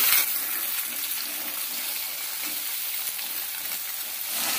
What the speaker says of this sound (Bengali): গ্যাসটা মিডিয়াম করে নিয়ে আলুটাকে ভেজে নেব।